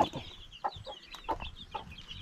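Free-range hens cluck in short, spaced bursts at a rural farm in the province, a few soft close-by calls repeating irregularly over quiet background.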